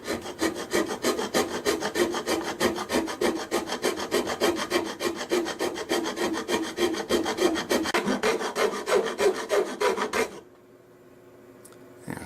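A hand file rasping across an ABS 3D-printed part in rapid, regular back-and-forth strokes, loud and close for about ten seconds before stopping abruptly into near quiet.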